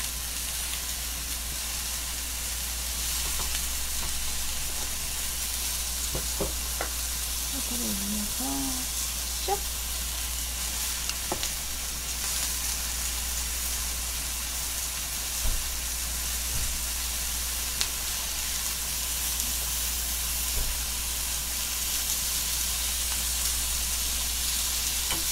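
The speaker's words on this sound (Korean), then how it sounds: "자, 지금 버터를 올릴게요." Butter sizzling and frying in a hot pan while steak cooks, a steady close hiss throughout with faint scraping and clinks over it.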